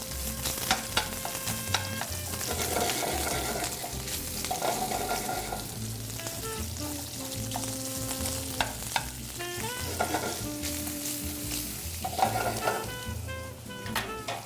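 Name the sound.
hot Italian sausage frying on the stove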